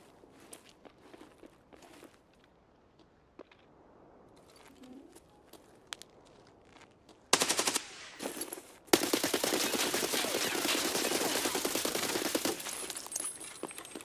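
Gunfire in the video game Escape From Tarkov: after quiet ambient birds and faint footsteps, loud bursts of rapid automatic fire break in and continue, close and dense.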